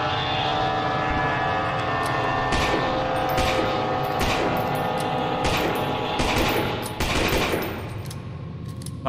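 Rapid gunfire in the Lost in Vivo video game, a dense stream of shots rattling steadily under a constant droning background, with a few louder bursts standing out.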